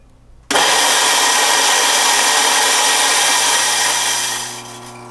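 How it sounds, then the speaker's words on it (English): A Ditting 804 Lab Sweet commercial coffee grinder grinds an 18 to 20 gram dose of coffee beans. A loud, steady, close whirring roar starts abruptly and runs for about four seconds, then tapers off. "I actually really like the faster grind speed offered by a grinder like this Lab Suite here, where I can grind 18 to 20 grams in literally 2 to 3 seconds"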